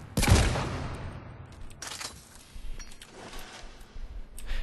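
Eviscerator shotgun in Mass Effect 3 fired at short range from the hip, a loud blast at the start followed by a few quieter shots and mechanical clatter.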